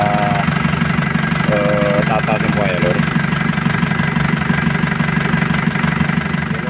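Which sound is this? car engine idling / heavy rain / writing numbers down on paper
car engine idling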